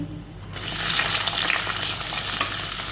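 Whole cinnamon, cloves and cardamom hit hot oil in a pan for a tomato masala and set off a sudden, steady, loud sizzle that continues close by after a brief quiet moment.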